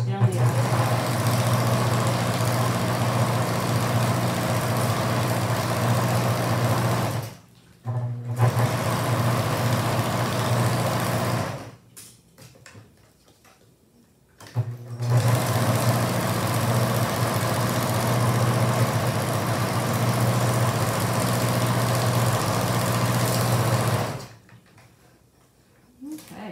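Sewing machine stitching down the handle of a shopping bag made from a feed sack: two long runs of steady, fast, even motor hum and needle rattle, each broken by short pauses, with a third run starting at the end.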